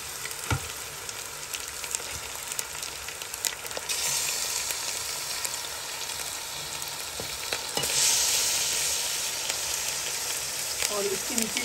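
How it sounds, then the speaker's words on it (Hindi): Chicken frying with ginger garlic paste in a pot over high flame for a Pakistani chicken biryani, a steady loud sizzle with occasional stirring scrapes throughout, no talking. "और अदरक लहसुन के पेस्ट के साथ जो है वो चिकन की भुनाई करेंगे"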